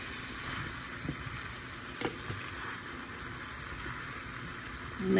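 Sausage, eggs and vegetables fry in a pan with a steady close sizzle, and a spoon scrapes and stirs through them in a few soft, irregular strokes.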